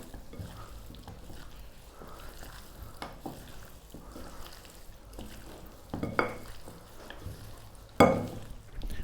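Marinated beef being mixed by a gloved hand in a bowl, with soft wet squelching and rustling throughout and a couple of louder squishes near the end.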